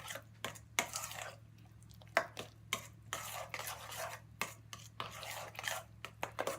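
Wet vegan brownie batter with melted coconut oil is stirred briskly in a bowl, a close run of rhythmic scraping and knocking strokes with brief pauses between them.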